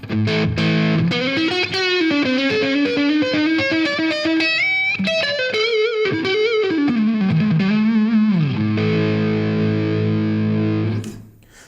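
A PRS CE24 electric guitar with split coil in neck position plays an overdriven, continuous lead phrase with bends and slides over chordal backing, loud and steady, then cuts off at the end.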